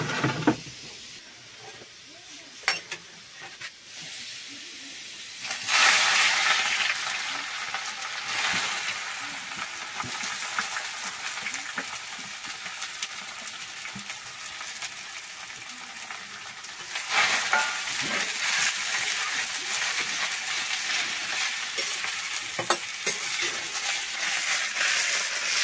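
Green chillies roast and sizzle in a hot pan for a pahadi mustard greens dish, a steady loud frying hiss with stirring scrapes that surges louder midway, no talking.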